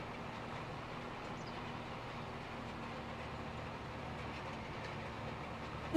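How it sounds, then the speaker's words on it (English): Long freight train rolling past in the farming game's Judith Plains Montana map, a steady rumbling roar with faint rail clatter holding at an even level throughout, no voices. "Oh, that's the train. I really love the train on this map here."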